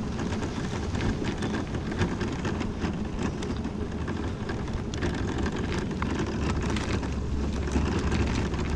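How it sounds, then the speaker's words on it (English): Steady rain pours down close by with broadband hiss, while a deep low rumble of thunder and wind runs underneath throughout, with no talking. "Rain, go away."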